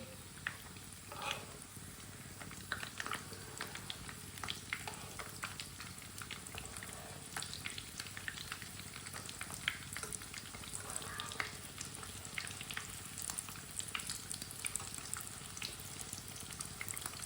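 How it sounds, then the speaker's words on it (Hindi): Aloo tikki, potato patties, sizzle and crackle steadily in a hot pan, a continuous close frying hiss with small pops and occasional utensil clicks, no talking. "टिक्की हमारी दोनों साइडों से फ्राई हो चुकी है"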